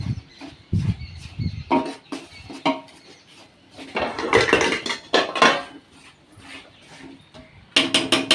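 Ariselu dough for a Sankranti sweet is stirred fast in a pot, producing repeated scraping and knocking of a utensil against the vessel in uneven bursts, some louder and rapid, others quieter pauses.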